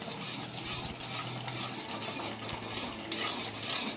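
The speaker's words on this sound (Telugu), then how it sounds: "మనం ఇంకొద్ది గట్టిపడే వరకు కలుపుతూ ఉన్నాం." Papaya halwa with ghee is stirred in a pan over low heat as it thickens, giving soft, quiet scraping and light spoon-on-pan rubbing with a faint sizzle.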